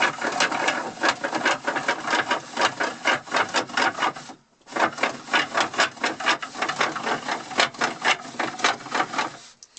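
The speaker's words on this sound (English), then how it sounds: "This is the first time I've done gears, so they don't run very smoothly. They're kind of loud, but they do the job." Small homemade gears in a micro workshop machine run loudly and unevenly, a rapid, rough clattering whir close by that stops briefly midway and then starts again.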